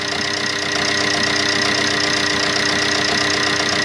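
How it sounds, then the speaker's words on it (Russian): A 2009 Opel Corsa D with a 1.3-litre Z13DTH diesel idles steadily at close range, a constant even rumble with a faint knocking clatter and no variation in pace. "Работа двигателя на холостом ходу."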